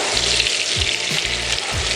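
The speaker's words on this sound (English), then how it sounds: "And that starts basting your fish" Cod fillet frying in butter with leek in a tilted pan, a loud steady sizzle and crackle while hot butter is spooned over the fish in repeated basting strokes.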